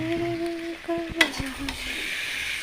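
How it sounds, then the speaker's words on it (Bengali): Food stirred and fried in a pan during Bengali home cooking, with a steady sizzle broken by several sharp scraping clinks of the spoon against the pan. No voices are heard. "তারপর এইগুলিকে একটু ভালো করে নাড়াচাড়া দিয়ে"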